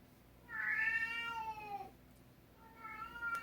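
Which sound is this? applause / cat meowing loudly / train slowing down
cat meowing loudly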